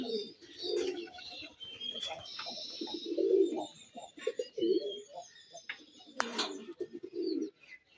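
Sky-blue pigeons coo in soft, repeated throaty bursts close by, with faint chirps from other birds between them.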